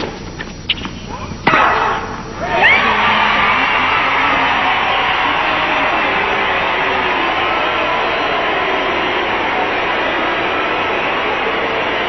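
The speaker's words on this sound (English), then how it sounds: "a few boos, some applause." Tennis crowd at Indian Wells reacting after Serena Williams wins a third-set match: sustained broad crowd noise of applause mixed with scattered boos, loud and continuous after an abrupt start, with a few sharper bursts early on.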